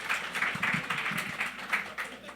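Live show audience applauding in a show of hands, a moderate, slightly distant patter of many claps in an indoor venue, steady throughout.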